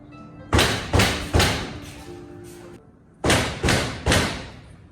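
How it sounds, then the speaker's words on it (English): Heavy knocking on a door sounds in two groups of three loud thuds, separated by a short pause, with a faint background hum between the blows. "Whence is that knocking?"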